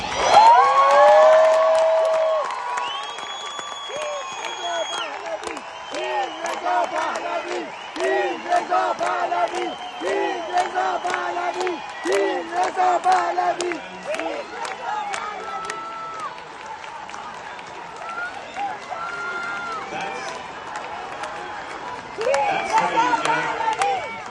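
A large crowd at a Los Angeles concert for Iranian freedom cheers and applauds loudly, with whoops and shouts rising at the start, fading to a steady roar, then swelling again near the end.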